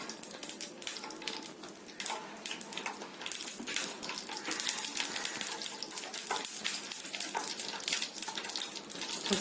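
Mustard seeds crackle and sizzle in hot oil while tempering dal, a dense continuous hiss with fine popping throughout, steady and fairly close.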